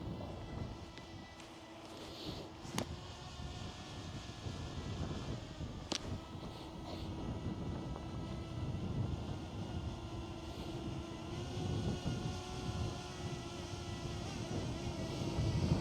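DJI Flip drone flying back to its starting position, a steady high buzzing whine of small propellers holding on throughout, moderately distant and faint with faint ticks.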